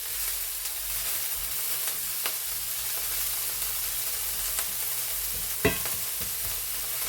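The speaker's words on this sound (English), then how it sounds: "I'm also going to put the jalapeno peppers and the tomatillos. And after this cooks a little bit" Jalapeno peppers and tomatillos sizzle in a cast iron skillet, a steady bright frying hiss with occasional scrapes and taps of stirring, one sharper knock near the end.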